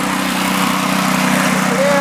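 Briggs and Stratton engine warmed up and running with the throttle in the run position, a loud steady close drone with an even hum throughout.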